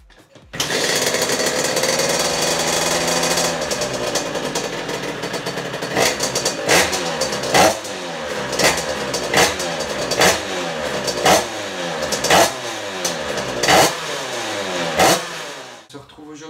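A motorcycle, an 86 Top Alu, starts on choke and idles roughly, then revs repeatedly in a steady rising-and-falling rhythm, loud and close, with no voice over it.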